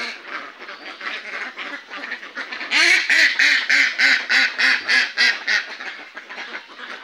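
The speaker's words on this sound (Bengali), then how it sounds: "হাঁসগুলো সব পুকুরে গোসল করতেছে।" A flock of farm ducks quacking near a pond, loud and close, with calls overlapping into a rapid, rhythmic chorus that swells in the middle.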